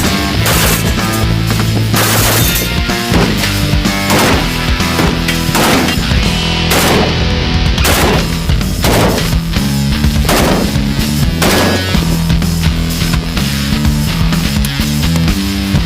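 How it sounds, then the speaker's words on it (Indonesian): Rapid gunfire and rocket launches during Russian military combat training, loud and dense, with sharp shots and bursts overlapping almost without pause. "rekrutan Rusia ini menjalani pelatihan tempur yang intensif, seperti menembakkan roket dan penggunaan senapan"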